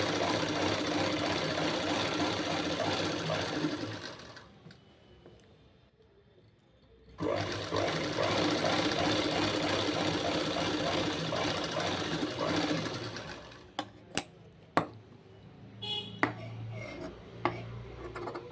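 A sewing machine stitches a boat-neck blouse with a fast, steady whirring run, stops, then runs again. A few sharp clicks and knocks of handling follow near the end. No voices.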